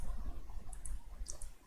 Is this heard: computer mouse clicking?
yes